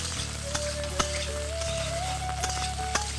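Boiled potatoes frying in hot oil in a pan, a steady close sizzle with occasional louder pops and crackles over a constant low hum.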